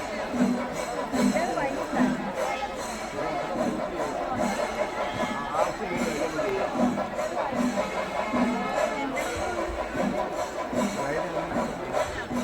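Festival crowd gathered at a mosque procession for a Chandanakkudam celebration, a dense murmur of voices with rhythmic drumming and occasional cheers, and someone talking over a loudspeaker throughout.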